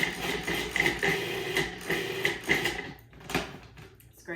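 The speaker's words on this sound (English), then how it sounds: "we're gonna plug in our food processor and process these just a bit" A food processor purees salsa ingredients in a busy, rattling whir broken by irregular knocks and thumps, running loud and close with a brief dip near the end.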